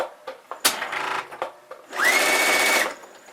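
A sewing machine runs in short bursts as its needle and presser foot move up and down, with brief starts and then a longer steady whir close by; no voices.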